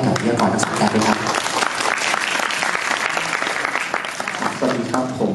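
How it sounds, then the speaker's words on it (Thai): Loud, dense applause from an audience welcoming speakers at an educational film festival event in Thailand, continuous clapping for several seconds with some crowd murmur mixed in. "ขอเสียงปรบมือให้กับวิทยากรทุกท่านด้วยครับ"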